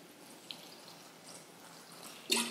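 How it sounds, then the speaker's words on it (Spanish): Water runs into a MySmooth blender jug, a soft steady trickle with a small splash and a louder burst near the end, close by and without speech. "Vamos a llenar de agua MySmooth."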